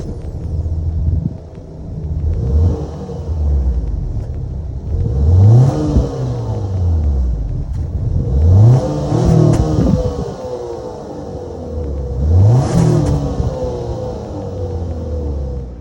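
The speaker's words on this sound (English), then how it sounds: "that was, of course, the sound of the 2-liter turbo 4-cylinder sold by Acura for this TLX" A 2022 Acura TLX A-Spec's 2-liter turbo four-cylinder engine revved three times, each rising whine and rumble dropping back to a rough idle, close and loud.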